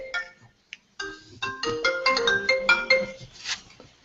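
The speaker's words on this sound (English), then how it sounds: "Sorry, I just got a phone" A phone rings with an incoming call, playing a clear melodic ringtone of bright repeating tones that starts faintly, breaks off briefly, then sounds steadily and fairly loud on its own.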